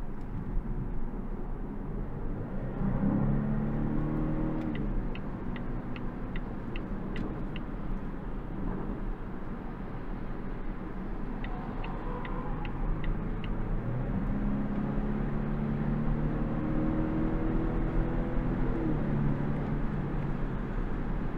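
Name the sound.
Volvo V90 Cross Country B5 car merging onto motorway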